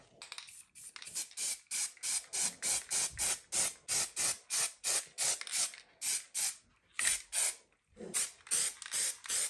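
Short bursts of TranStar gray primer spraying from an aerosol can, about twenty quick hissing blasts in a steady rhythm with brief gaps between them, close and fairly loud, with no talking, while a part for a 1968 Chevy Nova hood latch restoration gets coated.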